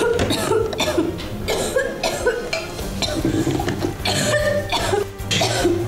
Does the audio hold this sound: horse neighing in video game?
no